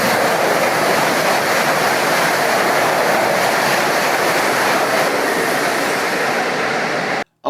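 A train in China rolling along at speed, a steady loud broadband rumble and rushing roar with no breaks, cutting off abruptly near the end.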